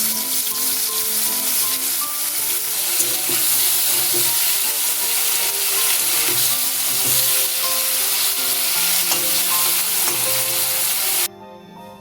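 Prawns coated in salt, turmeric and dried chilli powder fry in hot oil, a loud, dense, continuous sizzle heard up close with occasional spatula scrapes, cutting off sharply near the end.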